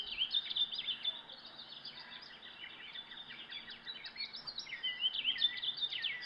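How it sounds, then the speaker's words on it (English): A forest ambient recording played through a JBL Pulse 5 speaker: many birds chirp and trill continuously, bright high calls overlapping in a dense, quiet chorus with no voices. "but it has a lot of chirping birds."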